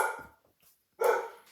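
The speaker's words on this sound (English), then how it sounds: "I'm sorry about the barking dog, I think Nate must be home from school." A dog barks twice, a sharp bark followed by a short pause and a louder second bark, close by with no talking.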